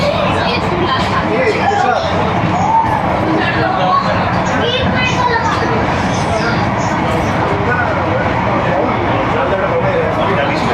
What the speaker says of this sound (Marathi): बघू शकता गर्दी जबरदस्त आहे लोक सुट्ट्या म्हणून येत आहेत